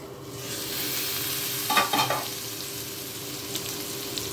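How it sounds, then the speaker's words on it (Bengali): Potatoes coated with turmeric frying in a covered wok give a steady, close sizzle. A brief scraping stir comes midway. "এদিকে দেখি চলুন আলু ভাজার কি অবস্থা।"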